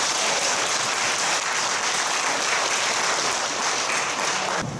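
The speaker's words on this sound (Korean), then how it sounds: "우리 박수 한번 더 하시죠" A Korean church congregation breaks into loud, dense, sustained applause at a worship service. Many hands clap together in an even roar that holds steady and cuts off near the end.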